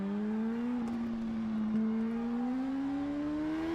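A BMW S1000RR superbike engine in an Isle of Man TT racing video game drones steadily, its pitch dipping slightly and then climbing as the revs build, loud and close with no talk over it.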